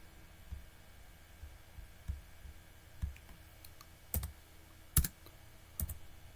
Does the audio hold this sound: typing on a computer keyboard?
yes